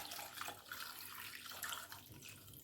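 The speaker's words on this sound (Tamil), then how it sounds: "உங்களுக்கு தேவையான தண்ணி விட்டுக்கொள்ளுங்க அவிக்கிறதுக்கு." Water poured into a pot of cassava with salt and turmeric for boiling, a quiet continuous splashing stream lasting a few seconds.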